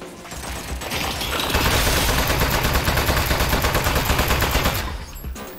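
Rapid automatic turret gunfire in the video game Aperture Desk Job, a loud, dense sustained burst of shots lasting several seconds before tapering off, with no talking.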